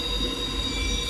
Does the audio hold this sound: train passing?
yes